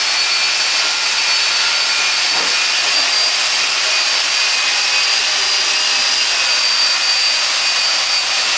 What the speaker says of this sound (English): I'm going to scuff it up with that belt sander